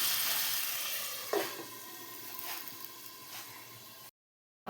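Mixed vegetable curry of five kinds of vegetables sizzles steadily in a pan after water is poured in, a dense close frying hiss with a sharper burst partway through, then the sound stops abruptly.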